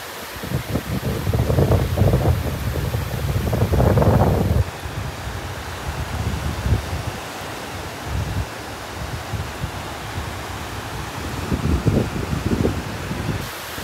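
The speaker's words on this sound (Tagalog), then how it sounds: "kahit konti lang yung hangin, ramdam mo dito sa White Beach" Wind blowing at White Beach, Boracay: a steady, loud roar of wind noise across the microphone, gustier and heavier in the first few seconds, then softer with intermittent buffets, with no one talking.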